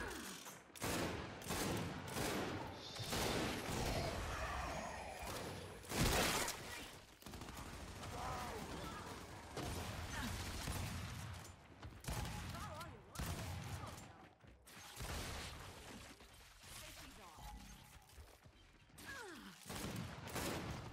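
Gunfire in the multiplayer shooter Gears 5 during a ranked Control match, bursts and rattling shots scattered across the stretch at moderate distance, mixed with game effects and players talking over it.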